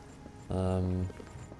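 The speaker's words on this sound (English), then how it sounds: "There is a paint horse." A paint horse's hooves clop briefly in the Oblivion game world near the town of Bruma, a short burst of a few quick hoof beats with someone talking around it.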